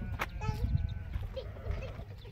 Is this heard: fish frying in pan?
no